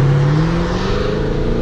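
A Chevrolet Camaro accelerates on a highway, engine pitch climbing steadily through a gear in a loud, close, continuous rev with no talking.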